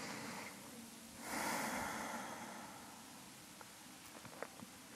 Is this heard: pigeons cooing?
no